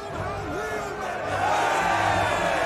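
A crowd of soldiers in a battle game of Spartan hoplites cheers and whoops in a steady roar that swells slightly toward the end, with a voice talking over it.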